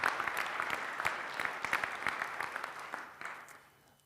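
A church congregation at a congregational meeting applauds, a moderate crowd of clapping heard from a distance that holds steady and then tapers off toward the end.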